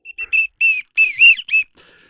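A comedy performer at a live improv match whistles a quick run of short, bright tones to imitate reindeer hooves, with five or six close bursts and a fainter tail at the end.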